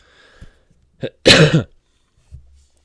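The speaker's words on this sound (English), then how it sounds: "I'm going to have to edit all these coughs out." One harsh, close cough bursts out after a small throat-clearing sound, with brief quiet breathing noises around it.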